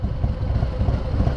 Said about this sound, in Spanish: el motor siente bien. Escúchalo.